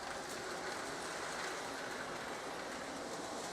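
A Lionel O gauge model Amtrak train runs along its track on a home layout, giving a steady, faint rolling whir and rattle of small wheels on metal rails.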